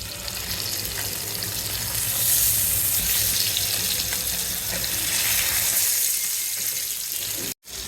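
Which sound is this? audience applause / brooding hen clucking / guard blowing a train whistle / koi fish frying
koi fish frying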